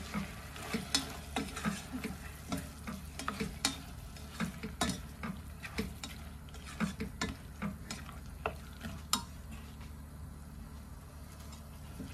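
Squid stirring and frying in a pan for a mung bean dish: a continuous sizzle broken by frequent sharp clicks and scrapes of a utensil against the pan, close and fairly loud, with no talk.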